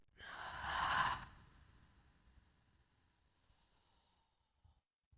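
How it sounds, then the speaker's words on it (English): One slow, deep breath is heard close up, a soft rushing inhale swelling and fading within about a second and a half, then a long quiet exhale trailing into near silence. "deep breath in and full breath out"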